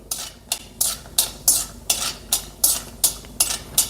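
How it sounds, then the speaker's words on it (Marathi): Almonds frying in ghee in a wok until crunchy are tossed in rhythmic strokes, giving about ten regular bursts of crisp scraping sizzle roughly every half second, close and alone. "बदाम आपल्याला क्रंची होईपर्यंत असं फ्राय करून घ्यायचं आहे"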